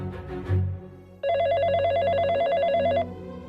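An electronic telephone ring, a fast warbling trill that repeats steadily for almost two seconds and then cuts off. It sounds loud and close, and a brief muffled knock or thump comes just before it.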